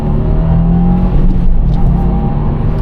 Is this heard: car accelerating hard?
yes